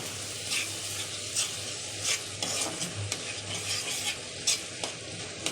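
Chilli and cumin powders sizzling in oil as a spoon stirs them around a pan for egg potato curry, a soft steady fry with light scraping strokes and occasional clinks.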